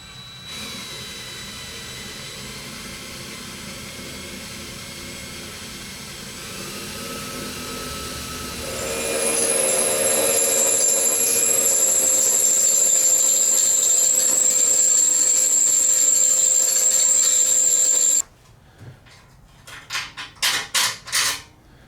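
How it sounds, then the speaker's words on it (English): A drill bit bores holes into a Harbor Freight metal tool cart, first a smaller bit then larger, a steady loud whine building and holding for several seconds before stopping, followed by a few short clattering bursts. "I'm going to start it off with a smaller drill bit to help me."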